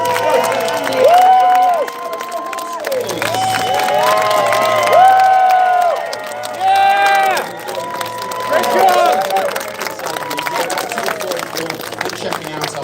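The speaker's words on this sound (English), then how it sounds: "do give them another huge round of" Audience at a horse show cheers and shouts in bursts, children's voices high and excited, with scattered clapping and an announcer's voice mixed in, loud and close.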